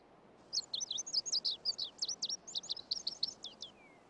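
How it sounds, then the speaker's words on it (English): A bird sings a rapid series of bright, high chirping notes, about a dozen in quick succession, ending in a descending trill; clear and close over faint background hiss. "Birdsong was the first music ever heard by human ears."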